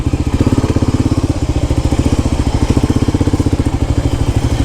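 A motorcycle engine thumps along on a ride toward North Lombok, a loud, close, rapid pulsing chug that stays steady throughout.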